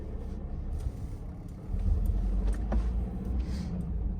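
A Volkswagen Amarok pickup with a manual gearbox pulls away on a snowy road, its engine rumbling low from inside the cab and swelling as it sets off, with a few faint clicks and knocks.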